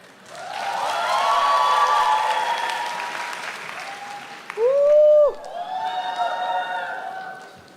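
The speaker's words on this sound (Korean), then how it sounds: "여러분 큰 박수 부탁드릴게요" An audience at a church panel event claps in sustained applause that rises and then fades. A loud tone cuts in briefly partway through, and the clapping resumes afterward.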